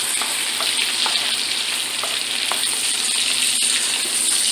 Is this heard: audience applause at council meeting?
no